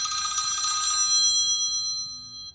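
A phone rings loudly and suddenly, a bright electronic ringtone with repeating tones that ends after about a second, leaving a faint low room murmur and a thin lingering tone.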